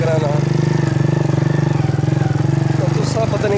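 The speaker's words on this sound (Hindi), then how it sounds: "तो मैं एक हाथ मोटरसाइकिल को चलाई गया।" A motorcycle engine thumps in a fast, even pulse at close range while being ridden, loud and continuous from start to finish.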